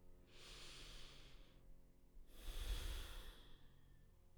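Slow, deep yoga breathing sounds close and quiet: two long, airy breaths, the second fuller and heavier, separated by a short pause.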